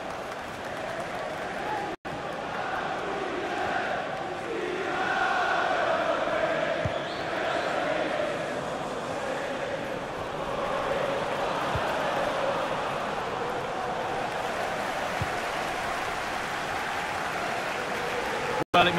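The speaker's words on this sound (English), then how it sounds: "it must be really great for these Liverpool players to hear this crowd" A stadium crowd in a FIFA 21 match, Liverpool against Manchester City, keeps up a steady, full roar with swells of cheering, broken by one abrupt cut near the start.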